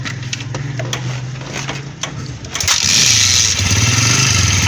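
A 100cc motorcycle engine cranks with a few quick ticking turns, then catches and settles into a loud, steady idle close by.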